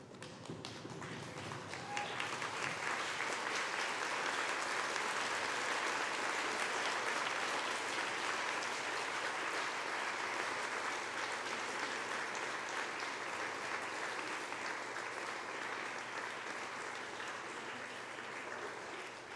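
Graduates at a graduation ceremony applaud in a steady, full ovation of many hands clapping that fills the hall and holds evenly for the whole stretch, with no talking.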